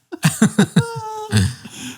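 A quick burst of four sharp coughs close by, followed by a short strained vocal sound and another rough cough.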